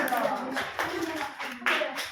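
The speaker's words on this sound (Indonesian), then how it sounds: "Tepuk tangan dulu dong untuk kelompok 1" Audience applause for a group of student presenters in a classroom teacher-training session, a steady burst of clapping from a small group lasting a couple of seconds, close and moderately loud.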